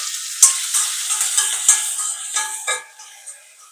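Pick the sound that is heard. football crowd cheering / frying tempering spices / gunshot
frying tempering spices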